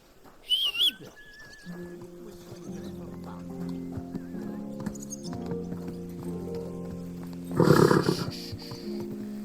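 A horse whinnies and snorts amid clip-clopping and game music in Kingdom Come: Deliverance II, with a loud neigh near the end; fairly faint overall.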